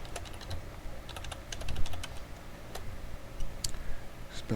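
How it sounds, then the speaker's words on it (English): Keys clatter on a computer keyboard while an address is entered into a Microsoft Word document, a quick irregular run of close, crisp taps with brief pauses and no talking. "so you can type in the address 2123"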